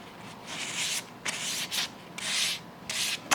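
Dry sandpaper rubbing back and forth on a porous burl wood bass guitar top in steady, scratchy strokes, close up, with brief pauses between passes.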